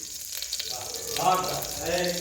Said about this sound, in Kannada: ಕರಿಬೇವು, ಈರುಳ್ಳಿ ಹಾಕಿ ಫ್ರೈ ಮಾಡಬೇಕು